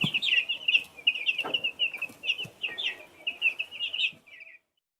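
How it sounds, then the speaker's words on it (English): A small chick chirps in a rapid, steady run of high, bright peeps that stop just before the end, with faint rustling underneath and no talking. "Chick."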